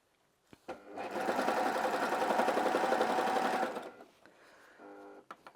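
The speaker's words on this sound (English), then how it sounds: "we have serged these pieces" A serger sewing machine stitching polo placket fabric pieces, a steady close mechanical whir lasting about three seconds, then a quieter lower hum as it slows, with no talk.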